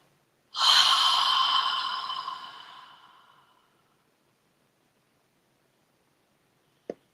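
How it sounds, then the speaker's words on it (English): Breathing exercise: one long, steady exhale of breath near the microphone lasting about three seconds and fading out, then silence and a brief soft click. "let's inhale through our nose and then hold it and then exhale for 8"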